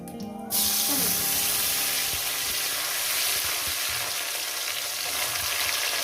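Tomato drops into a hot pan with cumin and erupts into a loud, sustained sizzle after a brief quieter start, close and continuous throughout.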